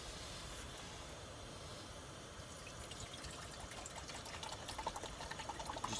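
Water from a canteen is poured for instant coffee inside an igloo with a stove fire, a faint continuous trickling pour that grows slightly louder, with wind-like rushing in the background.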